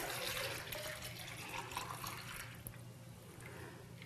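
Melted candle wax at about 175 degrees pours and trickles faintly, a soft continuous stream with small splashy variations, heard alone and quiet.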